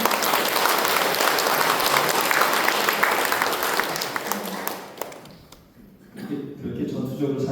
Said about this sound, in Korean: 박수 한번 주실까요?